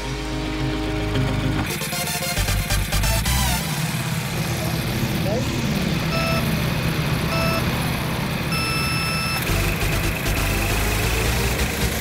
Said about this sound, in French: À droite, un kart à essence, à démarrage manuel, comme une tondeuse à gazon.